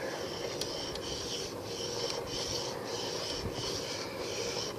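An Opinel #6 knife blade is drawn across a homemade sharpening stone in a steady series of rhythmic rasping strokes, about one per half second, close and fairly quiet.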